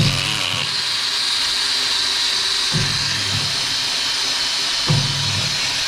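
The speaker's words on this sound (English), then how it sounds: "we're going to whiz a wire brush around it" A drill spinning a wire brush scrubs a steel tyre wheel rim to clear rust, corrosion and old bead sealer: a steady, loud, close whirring grind that runs throughout, with brief surges where the brush bites.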